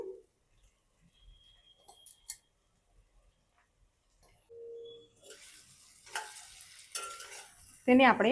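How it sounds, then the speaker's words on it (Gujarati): Puffed rice is tipped into a pan and stirred for a spicy snack; quiet clicks and taps give way to a rustling, scraping stir and a louder burst near the end, with a brief voice at the start. "હવે આપણે મમરા એડ કરી દઈશું."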